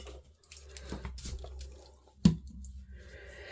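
A tiny bit of water dripped onto a surface while preparing reflection stamping with ink, heard as a few soft, quiet wet taps and squishes among light handling sounds, with one sharper drop midway.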